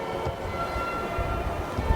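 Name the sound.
passing train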